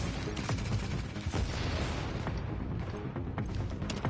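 Rapid gunfire from many weapons, including a light machine gun, in a firefight in the video game The Division, dense and continuous with overlapping shots and booms throughout.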